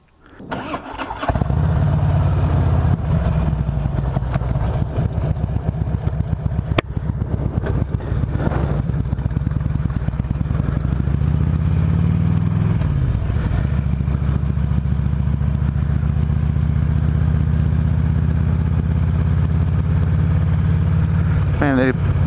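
A Harley-Davidson touring motorcycle rumbles steadily and loudly close by as it rides along a gravel road, its deep engine note holding constant after a brief start, with small shifts in pitch as it moves.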